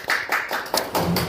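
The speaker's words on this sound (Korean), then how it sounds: "자, 박수로 한번 시작을 해보겠습니다" A small audience at an insurance sales training session claps together for just over a second, with quick overlapping handclaps close by and no voices.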